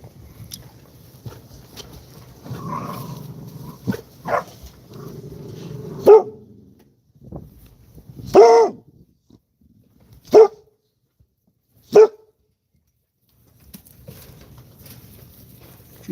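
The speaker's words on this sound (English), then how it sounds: "What you barking at?" An Americane da Presa dog barks in sharp, spaced single yelps over quiet background rustling, each bark loud and close with long pauses between them.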